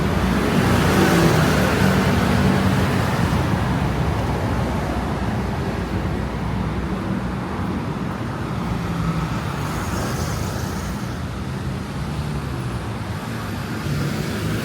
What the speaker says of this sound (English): The city streets. The sounds. I mean, it's the sirens, the cars, the motorbikes,